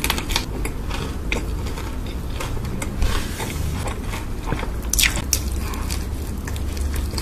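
Crunchy, crispy fried chicken bitten and chewed up close, a dense run of loud crackly crunches and squishy chewing noises with no pauses, sharper bites standing out now and then.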